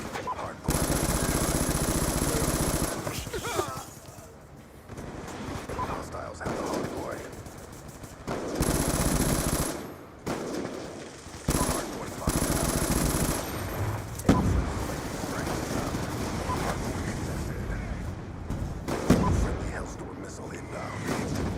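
Light machine guns fire in a Call of Duty match. Long, dense bursts of rapid automatic fire run one after another with short pauses, and gameplay sounds fill the gaps. A voice talks over the action at times.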